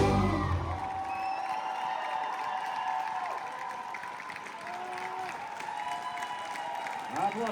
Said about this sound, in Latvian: Aplausi Preļu purpura korim!